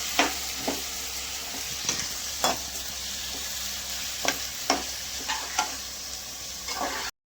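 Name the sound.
tomatoes being sautéed in a pan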